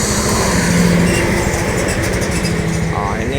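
An intercity bus pulls into a terminal on the way into Palembang, its loud, close engine rumbling steadily the whole time with a constant low droning throb.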